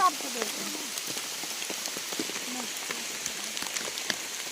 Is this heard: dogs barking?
no